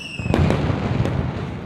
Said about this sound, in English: there you go, there's the fireworks, there's the Mardi Gras celebrations.